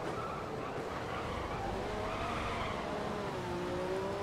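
Race car in the F1 2014 video game at Sepang, Malaysia, sliding on fresh tyres after a pit stop, a constant loud engine drone with a rising whine and tyre skid noise, heard on its own.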